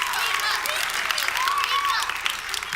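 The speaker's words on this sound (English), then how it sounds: "Let's give Eva a round of applause here." Audience applause for a young participant at a cartoonist's show, a dense, even wash of clapping that holds for a few seconds in a room, with a faint voice underneath.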